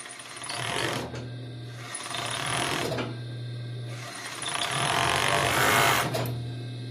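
An overlock sewing machine stitching and trimming fabric edges, running in three bursts of fast, buzzing mechanical whir with a low motor drone, close and loud, pausing briefly between runs.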